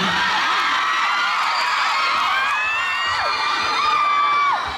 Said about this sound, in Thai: กรี๊ดให้ผมหรือว่ากรี๊ดให้แดนเซอร์ใหม่จ้า